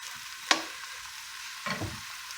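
Zucchini noodles sizzle in a hot pan, a quiet steady frying hiss broken by a sharp utensil tap and a brief stirring scrape.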